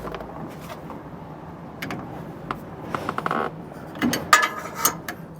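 A 7/8 wrench snugs down a jam nut on a Roadmaster Exact Center steering stabilizer, giving soft ratcheting and metallic clicks close by that grow sharper near the end, with no talking.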